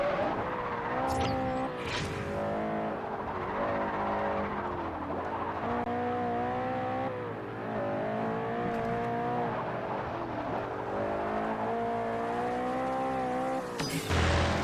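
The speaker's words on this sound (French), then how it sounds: "Les roues sont un peu dérobées dans le virage." Car tires skidding and squealing through a corner in the Xbox 360 racing game Forza Horizon, with a sustained droning engine note rising and falling across the turn and a sharp screech near the end.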